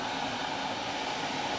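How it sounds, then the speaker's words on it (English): A steady, faint hissing rush of water heating in a kettle, continuous and even with no voices. "That noise that you hear, I'm boiling water over there"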